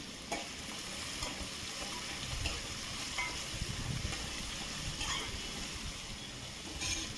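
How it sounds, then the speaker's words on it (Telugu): Chopped onion, green chilli and curry leaves fry in a pan for a chicken curry, giving a dense, steady sizzle close by with occasional scrapes and clinks as they are stirred. No one speaks. "ఇందాక కట్ చేసి పెట్టుకున్న ఆనియన్, పచ్చిమిర్చి ఉంది కదా, వాటిని కూడా వేసిన తర్వాత నెక్స్ట్ వచ్చేసి కొంచెం కరివేపాకు వేసి వీటన్నిటిని బాగా కలుపుకోవాలి"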